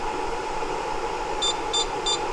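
Three short, high electronic beeps from an overloaded 3000W pure sine wave inverter drawing about 8 amps and 1800 watts sound at even intervals over a constant hum of machinery, the alarm tones clear and evenly spaced.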